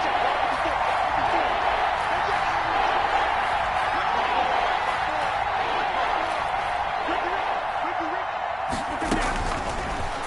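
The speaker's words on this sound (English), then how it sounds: "the crowd getting into it as we come up on a big 3rd down" Simulated stadium crowd in Madden NFL 21 roaring steadily ahead of a big third down, a constant dense wash of noise under continuous play-by-play commentary, with a brief sharp clatter near the end.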